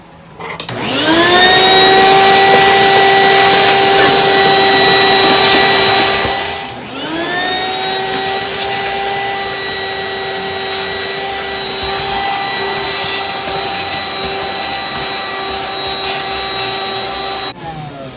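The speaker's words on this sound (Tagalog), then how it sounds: "Alam niyo itong vacuum namin." A Hoover vacuum cleaner runs loud and close with a steady whine, briefly dipping in pitch partway through before spinning back up and droning on with no talk.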